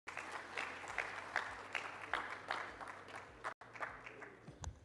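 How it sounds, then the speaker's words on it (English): An audience at a real-estate industry conference in Abu Dhabi applauds, a dense, even wash of many hands clapping at moderate volume for several seconds, fading briefly near the end. "A big round of applause to all of you."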